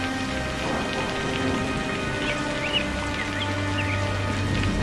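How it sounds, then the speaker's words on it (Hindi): Heavy rain pours in a steady, dense hiss with a low rumble of thunder underneath, a cartoon-style downpour over a poor farmers' home, continuous and close with no voices. "कितनी जोर जोर की बारिश हो रही है।"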